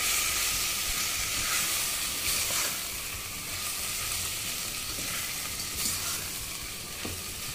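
Potatoes fry in a pan with cumin powder and other spices while being mixed, a loud, hissing sizzle with steam and intermittent scraping strokes of the spoon, close up and without speech.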